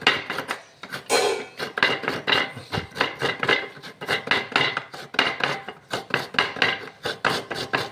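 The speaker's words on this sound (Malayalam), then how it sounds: "ഒരു കൈ മതി അല്ലേ ഒരൊറ്റ കൈ കൊണ്ട് തേങ്ങ ചേരക്കാണ് ജോലി" A coconut is scraped by hand, one-handed, against a metal grater, giving a close, rhythmic series of rasping strokes in quick repeated bursts with no talking.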